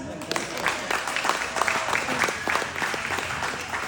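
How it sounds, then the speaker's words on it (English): A room full of wedding reception guests claps steadily for newlyweds, a dense patter of hands with a few cheers mixed in. "look at them now, they're newlyweds. So round of applause."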